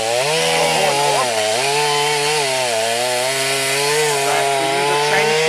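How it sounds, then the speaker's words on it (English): A chainsaw runs loud and close as it cuts through a rhino horn during a dehorning, its engine droning continuously with slight pitch shifts as it bites into the horn. "chainsaw first, and there we go."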